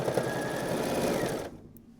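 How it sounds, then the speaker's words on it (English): A sewing machine stitches quilt binding along one side with a close, even purr that cuts off abruptly near the end, leaving quiet room tone. "And now I'm going to sew all the way down this side."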